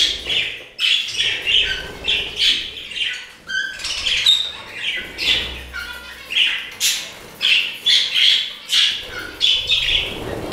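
Budgerigars and finches chatter and chirp together in an indoor bird room, a steady stream of close, bright squawks and tweets with rhythmic bursts throughout.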